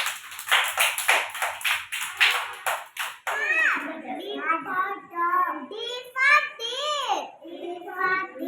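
Young kids at an Anganwadi preschool clap their hands in a quick run of sharp, close claps for about three seconds, followed by children speaking and chanting together.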